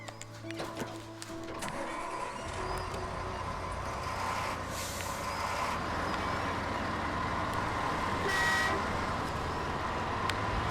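Heavy Behemoth vehicle from the video game Expeditions rolls along with a steady loud engine drone, hissing air-brake-like bursts and a brief high tone, continuous throughout with no talk.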